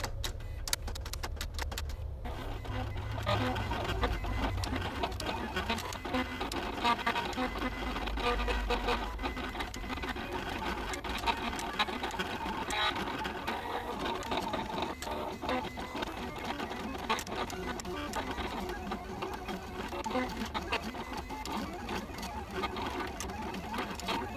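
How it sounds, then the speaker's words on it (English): An Oracle 651 cutting machine slices vinyl material, giving a continuous whirring motor drone with rapid mechanical chatter, close and steady throughout, with no voices. "the machine will start cutting the material"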